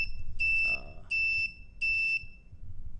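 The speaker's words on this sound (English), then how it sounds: "there is a finishing screen flash and also the buzzer alarm" An Arduino-built Pomodoro countdown clock sounds its buzzer alarm: three loud, steady electronic beeps of about half a second each, evenly spaced, with a faint low hum between them.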